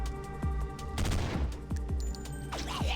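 Gunfire from the Stellar Tactics video game: a few sharp low shots ring out over a steady, busy background of game ambience and music, the loudest burst landing around the middle.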